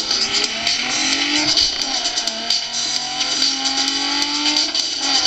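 Need for Speed Underground 2 PC demo racing plays from laptop speakers: an engine revs and shifts continuously, tires squeal here and there, and the whole thing sounds loud and a little tinny.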